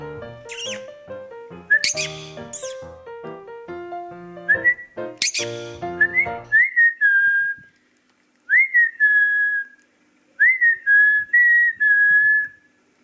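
A pet bird whistles clear, sustained tones in a few separate phrases with short pauses, after a stretch of busier chirps and squeaks.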